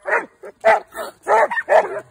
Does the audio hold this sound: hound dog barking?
yes